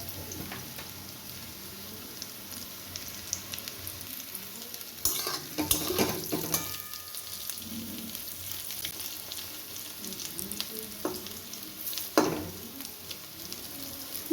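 Banana flower fritters fry in hot oil with a steady, quiet sizzle, broken by a few sharper clatters and scrapes as they are turned in the pan.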